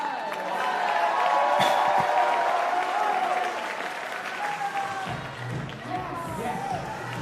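Loud, sustained applause from a large crowd at a climbing competition final, with cheering and a few shouts mixed in, continuing steadily throughout.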